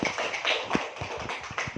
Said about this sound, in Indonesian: tepuk tangan dulu untuk Pak